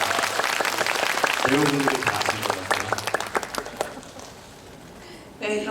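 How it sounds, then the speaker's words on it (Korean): Audience applause for a Korean film's director at a live talk event, dense clapping over the first few seconds under a person speaking, then thinning into scattered claps before the talk resumes. "박수 한번 주십시오"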